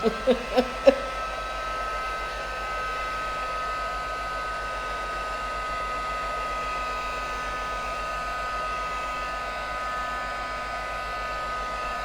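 A hair dryer blows steadily on wet paint on a mixed media flower art journal page, a constant close whir after a few quick clicks at the start.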